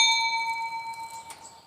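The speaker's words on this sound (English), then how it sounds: "So when we open the chicken coop run, they hear their little bell." A small bell hung at a chicken coop run rings once, a clear bright tone that lingers and slowly fades, with a second faint strike near the end.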